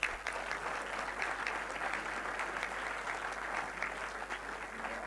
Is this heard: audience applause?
yes